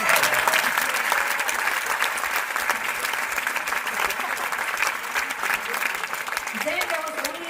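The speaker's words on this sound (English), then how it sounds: "Give a big clap, please." Sustained audience applause at the BOH Cameronian Arts Awards ceremony for Malaysian performing arts, a dense steady wash of many hands clapping throughout, with faint voices mixed in.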